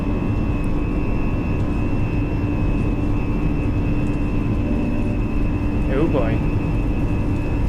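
Airbus A340-300 jet engines roaring at takeoff thrust in a flight simulator, a steady loud broadband rumble with a constant tonal whine throughout, and a brief spoken exclamation over it.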